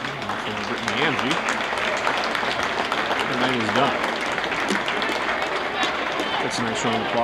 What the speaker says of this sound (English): That's a nice round of applause from the crowd here tonight.